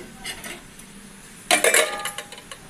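A ladle scrapes and clinks against a metal pot while okra and fish stew is mixed, first in faint taps, then in a louder flurry of metallic knocks.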